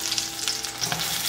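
Shrimp heads fry in oil in a clay pot with garlic cloves and scallion pieces, a bright, dense sizzle up close with brief bursts as the ingredients are tossed.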